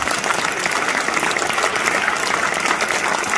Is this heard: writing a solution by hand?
no